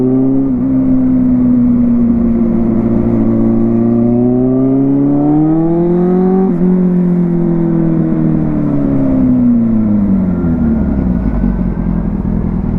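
A motorcycle with a broken exhaust pipe drones steadily while being ridden, its engine pitch rising and falling smoothly through gear changes, loud and close throughout with no talking.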